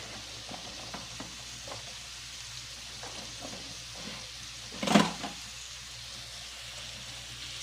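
Okra and bitter melon sizzle steadily in a hot pan for pakbet, with a brief louder clatter and hiss as the vegetables are stirred midway; close and continuous, no talking.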